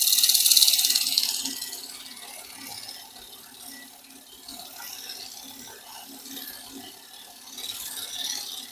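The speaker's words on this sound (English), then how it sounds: "sometimes it's a little easier just to use the old gouge like a scraper" A woodturning gouge held flat as a scraper against a spinning wooden vase on a lathe gives a steady scraping rasp that swells and fades in passes, loudest at the start and toward the end, with no talking.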